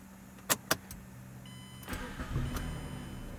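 A 2008 Mazda 6 with a no-start, no-crank problem, shown after two sharp clicks, cranks briefly and catches, then settles into a slightly rough, close idle with no talking.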